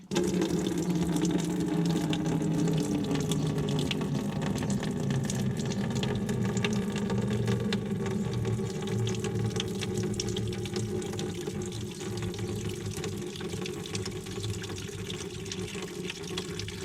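Coolant draining from the radiator system of a Honda Goldwing GL1800 (SC47) motorcycle once the radiator cap is opened, a steady continuous trickle and splash of liquid running without pause, no talking.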